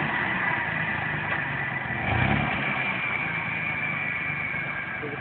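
A vehicle engine with a failing clutch idles steadily throughout, a continuous mid-range rumble with a slight swell in the middle, fairly close and alone.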